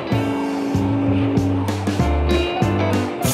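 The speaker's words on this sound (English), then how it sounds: "The wheels started to slip, the car stopped, and slipped back." Cartoon car tires slipping and skidding down a snowy mountain road, with short squealing bursts over a rumbling engine, mixed with playful music.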